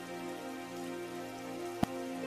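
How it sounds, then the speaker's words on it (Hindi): Heavy rain falls in a steady, dense hiss on surfaces, continuous and even, with one sharp knock standing out near the end and no voices. "बारिश बहुत तेज थी"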